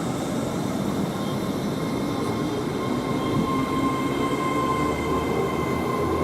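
A Class 807 train on a London Euston service departs Watford Junction on the West Coast Main Line, a loud, steady rumble of wheels and traction with faint high tones running through it.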